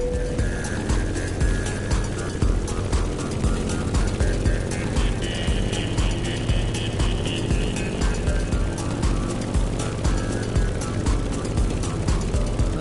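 Airplane flying through heavy turbulence in The Crew Motorfest, a steady loud droning engine and rushing wind with rattling buffets throughout, under faint background music.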